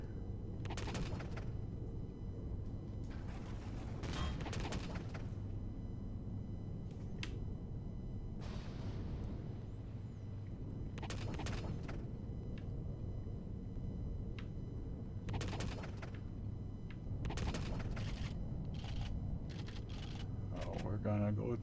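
Video game gunfire sounds in repeated short bursts and single cracks at moderate loudness over a constant low engine-like hum, with no talk.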